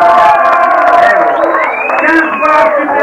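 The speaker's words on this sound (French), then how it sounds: "On l'applaudit" A 1995 Mister Arc en Ciel contest audience in Alençon cheers loudly for a contestant named Eric, with close crowd shouts and whoops and some voices and tones mixed in.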